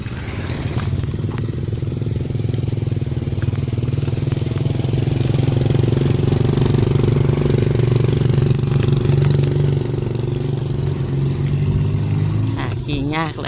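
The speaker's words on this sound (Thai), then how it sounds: "ขี่ยากละเด้อรถ3 ล้อเอาเอิ้นว่ารถนี่ก็จัมโบ้ตุ๊กจัมโบ้นะ" A three-wheeled jumbo tuk runs with a loud, steady engine rumble that lasts the whole time and is close to the listener.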